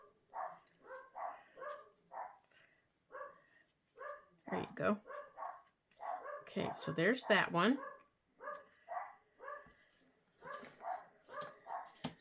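A dog barks at birds at the bird feeders, sharp barks bursting out in a cluster midway while a person talks nearby in a quiet room.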